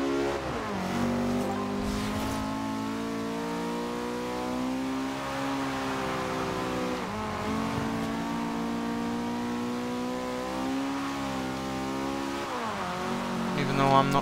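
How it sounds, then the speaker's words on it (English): A Type R car engine in Forza Horizon 2 revs hard through high revs, rising and dropping across several gear changes. The sound is loud and steady, and a voice talks over it. "like a lot of Type R's, it also revs to a really, really high amount."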